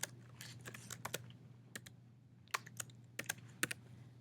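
Computer keyboard keys tapped in scattered short bursts of clicks, fairly faint and alone over a steady low hum.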